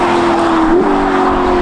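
A Novitec-tuned Ferrari SF90 Spider with sport exhaust accelerates hard, a loud sustained engine roar close by that steps up in pitch midway as the revs climb.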